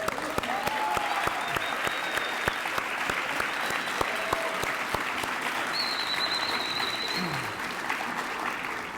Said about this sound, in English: Let's all give him a round of applause, please.